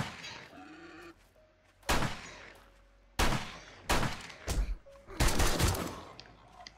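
Gunfire in the survival video game 7 Days To Die: a series of sharp, loud shots, some single and some in quick pairs or bursts, separated by short quiet gaps, with faint in-game sounds between them.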